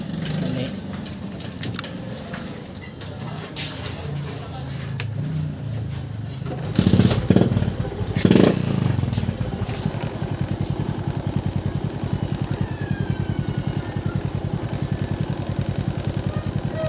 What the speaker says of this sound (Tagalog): Pandarin natin ang motor.